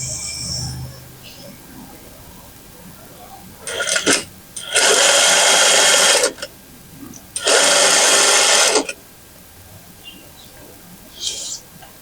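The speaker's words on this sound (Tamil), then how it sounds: "கரெக்டாக இந்த ஃபோல்டோட எண்டில் நான் ஸ்டிச் பண்ணிட்டே வரேன்." A sewing machine runs in three bursts, one short and two long steady runs, stitching along the folded end of palazzo pant fabric, with quiet pauses between the runs.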